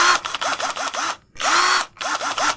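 A Morris 16.8V brushed cordless drill with a 10mm chuck, running free in loud close bursts with its whine rising and falling as the trigger is squeezed, broken by a brief pause.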